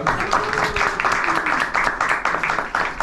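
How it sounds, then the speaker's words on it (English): An audience applauds a volunteer at an outdoor show at Liarsville near Skagway, Alaska, a burst of clapping from a crowd lasting a few seconds, with some chatter mixed in. "give our volunteer a round of applause"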